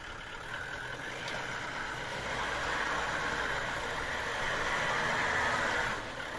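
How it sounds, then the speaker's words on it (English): A Toyota Land Cruiser LC79 creeps forward very slowly on a slippery track with both lockers engaged, its engine holding a steady low idle-like drone with a broad rough rumble that swells slightly midway and then drops off near the end. "very slowly drive forwards with both lockers engaged."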